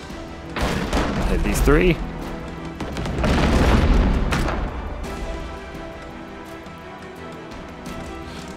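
Ship cannons fire in the naval combat game Abandon Ship, deep booms rolling out in a couple of heavy waves that fade away, with a person talking over the gunfire.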